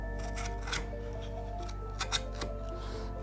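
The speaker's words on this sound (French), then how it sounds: "Un peu de nettoyage avec un plus grand ciseau." Wood chisel paring and cleaning out fir wood while shaping an axe sheath, giving close, steady scraping with a few sharper scrapes and scuffs over low workshop hum, no talk.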